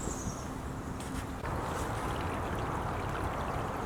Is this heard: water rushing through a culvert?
yes